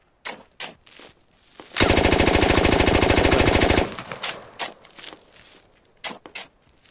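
M4 rifle gunfire in the Squad video game, a loud sustained burst of rapid automatic shots lasting about two seconds, surrounded by scattered thumps and footsteps.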